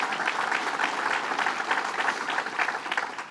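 An audience at a New York state bill-signing event claps steadily, a dense sustained round of applause heard close and fairly loud, with no one speaking over it.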